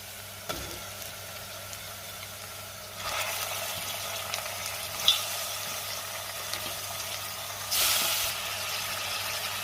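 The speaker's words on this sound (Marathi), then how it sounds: "चिकन मी सुरुवातीचे 5 ते 6 मिनिटं तेलावरती व्यवस्थित परतून घेणार आहे।" Chicken pieces frying in oil for chicken sukka, added after ginger-garlic paste, give a steady soft sizzle throughout with brighter hissing bursts as the pan is stirred, close and moderately quiet.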